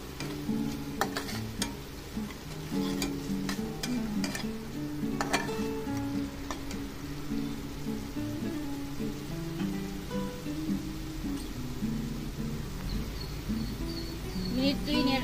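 Bhola fish in mustard masala with turmeric and salt is stirred in a pan, giving a busy patter of light scrapes, clicks and soft sizzling at a steady close level.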